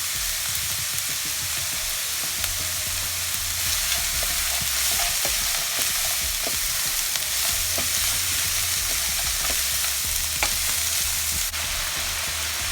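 Shrimp fried rice with chopped white onion and freshly added green peas is tossed in a hot pan, giving a continuous loud sizzle with intermittent stirring clicks and scrapes throughout.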